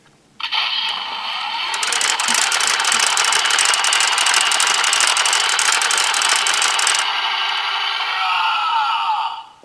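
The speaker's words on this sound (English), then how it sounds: "Also has the generic gattling sound of the main 5's transformation gears as well." A Zenkaiger role-play toy plays its electronic transformation gears effect, a loud whirring, clattering mechanical sound that holds steady for several seconds and then fades, with no voices.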